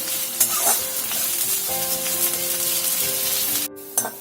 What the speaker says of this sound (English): We'll add the onions and we'll fry it till it is golden brown.